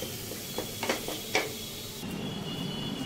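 Chicken masala is sautéed in oil for chicken bharta, stirred until the oil separates. A low steady sizzle runs under a few scraping stirs of the spatula against the pan.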